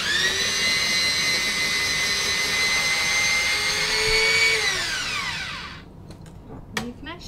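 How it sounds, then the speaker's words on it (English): A Tefal Fresh Express MB750 food processor grates zucchini through its finer grater, a loud steady motor whine with a bright layered tone that holds for about five seconds, then winds down and stops. "I might actually do some zucchini using the finer grater, just so that you can see the difference."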